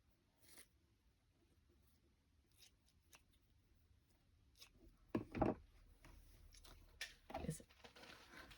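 Scissors snipping through paper during a craft project, several quiet crisp cuts close by, preceded by soft handling and paper rustle.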